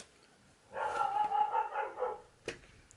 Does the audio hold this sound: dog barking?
yes